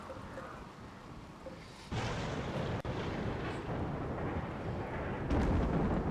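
A RimWorld thunderstorm sends up a rolling, heavy rumble that surges suddenly louder, breaks with a sharp crack, then swells again toward the end; no speech over it.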